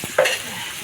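Ginger paste dropped into a hot oiled pan for a spinach and potato curry, giving a short close sizzle burst after a faint clink, then settling into a low steady frying hiss.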